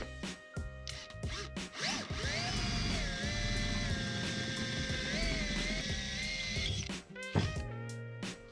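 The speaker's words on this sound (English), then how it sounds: "now I'm just going to start drilling them out" A power drill whines steadily for several seconds as it bores holes through metal on a Honda CB500 motorcycle, starting and stopping with brief clunks before and after the run.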